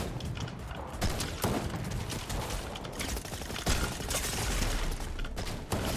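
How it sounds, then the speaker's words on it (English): Dense, continuous SMG gunfire from the video game Fortnite, heard up close as rapid overlapping bursts and impacts that fill the whole stretch at a steady loud level. "This is an SMG?"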